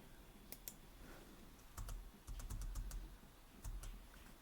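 Typing on a computer keyboard while entering values into an Excel spreadsheet: quiet, close clicks in short irregular bursts, with a few isolated taps between them and no voices.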